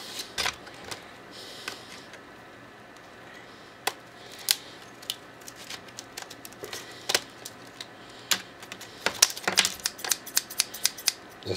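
Fiskars scissors snip through product packaging up close, giving sharp irregular clicks and cuts scattered steadily over a faint background hum, with no talking.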